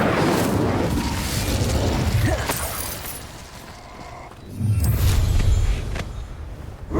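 Incendio fire spell in Hogwarts Legacy, a loud booming burst of flame with crackling debris, followed by a lull and then a second heavy eruption of fire near the end.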